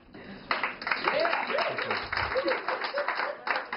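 Applause from a stand-up comedy audience in a bar and grill, a moderate patter of clapping with scattered whoops and voices mixed in, fairly close and steady after a quiet start.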